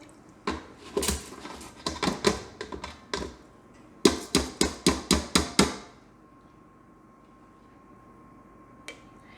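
Soaked jasmine rice, two cups, tipped into a rice cooker pot, giving a run of sharp, close clattering pours and taps in quick bursts, then quiet apart from a faint click near the end.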